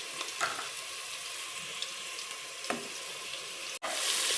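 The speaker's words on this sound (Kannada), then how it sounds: "ಕಡಿಮೆ ಉರಿಲಿ ಫ್ರೈ ಆಗಿದೆ ಶುಂಠಿ ಬೆಳ್ಳುಳ್ಳಿ ಪೇಸ್ಟು" Ginger garlic paste frying in a pan on a low flame gives a constant close hissing sizzle with faint stirring scrapes, briefly cutting out near the end before resuming.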